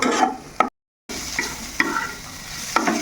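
A spoon stirs a filling frying in a pan on medium heat, giving soft sizzling under a few distinct scraping strokes, with a brief dead gap early on.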